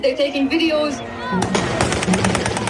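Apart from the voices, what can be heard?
fireworks during street celebrations in Homs, Syria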